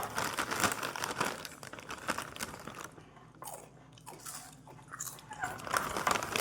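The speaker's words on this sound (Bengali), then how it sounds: "অনেক দিন পর খেলাম কুরকুরে" Crunchy Kurkure snack being bitten and chewed close up, a string of crisp crunches and crinkling bites with brief pauses, quiet and alone without talk.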